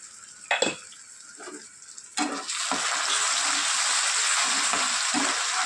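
Ginger and green chilli paste with salt frying in a pan: a few knocks and scrapes of a spoon, then a sudden loud, steady sizzle that holds close and constant.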